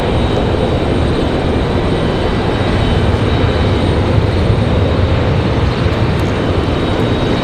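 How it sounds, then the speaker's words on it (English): An Airbus A330 jet departs Raleigh Durham airport with a loud, steady broadband engine roar that holds at full strength throughout, no voices. "Perfect sounding departure there for that A330"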